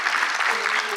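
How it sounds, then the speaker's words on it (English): Audience applause at an evening talk on racial and economic justice, dense steady clapping from a full room for about a second. "please join me in thanking Audra for being here tonight."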